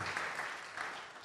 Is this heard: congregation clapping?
yes